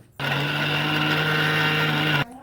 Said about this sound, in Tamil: இப்போ ரெண்டுத்தையும் ஒன்றா போட்டு மிக்சர் ஜாரில் கிரைண்ட் பண்ணுறோம்